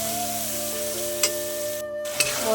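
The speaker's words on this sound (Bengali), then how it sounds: "এবার আমি মশলাটা দিয়ে দেবো, দিয়ে আমি মশলাটাকে ভালো করে কষিয়ে নেব।" Spice paste frying in a pan over a tempering while cooking chana dal with young jackfruit, a constant bright sizzle with a steady hum behind it and a couple of sharp spatula scrapes against the pan.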